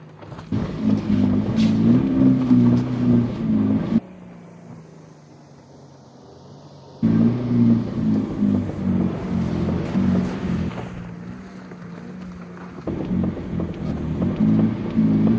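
Subaru car driving through snow, its engine revving in loud bursts with rising tone, broken by quieter gaps of coasting and wind noise, roughly three revving passes.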